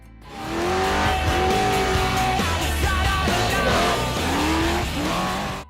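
Mason AWD chassis desert off-road race truck with a mid-mounted race engine and five-speed Mason-matic gearbox, driving close by with a loud engine that rises and falls through several revving pulls and tire noise, fading at the end.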